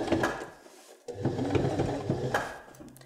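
Sewing machine stitching fabric for a dog snuffle mat: a close, mechanical whirring rattle in short runs with a brief pause, with no voices.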